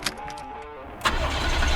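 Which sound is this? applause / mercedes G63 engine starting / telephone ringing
mercedes G63 engine starting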